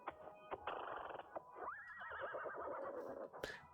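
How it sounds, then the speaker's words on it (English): A horse ridden by a knight in the video game Wanderstop gives a long, wavering whinny after a stretch of rustling and hoof movement. The sound is moderately close, with no talking. "knight friend just walked by on his horse"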